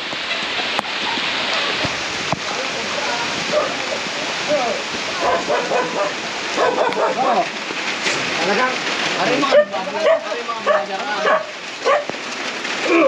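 Steady heavy rain hissing on surfaces throughout, with a dog barking at times and scattered bumps and movement nearby.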